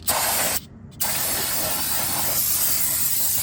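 An aerosol can of brake cleaner sprays on rear drum brakes of a classic GM car in a loud steady hiss, briefly pausing after half a second, then hissing continuously again, close up.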